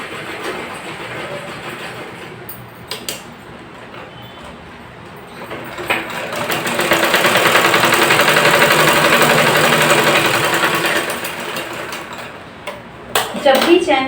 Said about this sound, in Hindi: एक बार सिलाई हम और कर देंगे